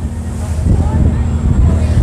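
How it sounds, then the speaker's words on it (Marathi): A fast boat ride on a boat that carries cars, with strong wind roaring loudly and continuously over the low rumble of the engine and water. "बोटीचा स्पीडही भन्नाट असतो, वारा भन्नाट"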